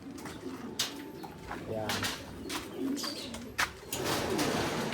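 Pigeons coo in a loft that holds young birds, with soft, repeated calls that rise and fall at close range while a person speaks briefly.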